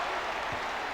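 Arena crowd noise from a packed NC State basketball game against Duke, a steady broadband roar of cheering that holds level for the full second without a break.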